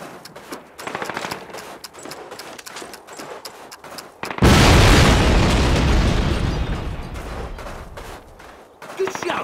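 In a Call of Duty battle, a flak gun blows up with a loud, booming explosion whose rumble slowly fades. Rapid gunfire crackles before and after the blast.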